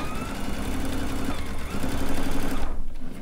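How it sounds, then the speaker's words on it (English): A sewing machine fitted with a quarter-inch piecing foot and edge guide stitches fabric strips, running with a steady, fast mechanical whir that briefly pauses near the end. "I'm using a 1/4-inch piecing foot with the edge guide."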